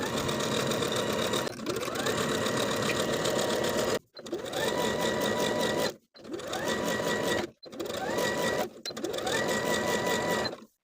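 A sewing machine runs in several bursts along a seam in a pair of shorts, each a loud, rapid mechanical chatter separated by brief pauses, with no talk.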